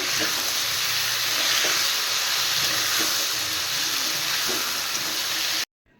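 Cut crabs fry in hot oil with turmeric and salt in a wok, giving a loud continuous sizzle and hiss that runs steadily for several seconds before cutting off abruptly.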